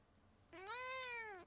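A young cat gives one clear, drawn-out meow of about a second, heard close over quiet room hum.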